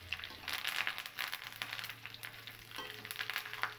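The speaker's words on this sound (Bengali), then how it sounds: "তুলে নিয়ে ওই একই তেলের মধ্যে আমি কারি পাতাগুলোকেও ভেজে নেব।" Curry leaves fry in the same hot oil just used for nuts, giving a steady soft sizzle with crackling bursts and light stirring, faint and close with no talk.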